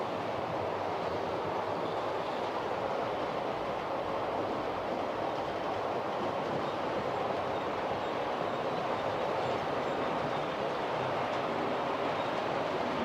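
A Hornby Class 66 model train runs along a layout with long gentle inclines, giving a steady, continuous rolling rumble and whir at an even level throughout, with no voices over it.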